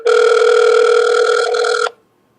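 A telephone rings during an outgoing call: one loud, close, steady ringback tone lasting nearly two seconds, then cutting off into silence, with no talk.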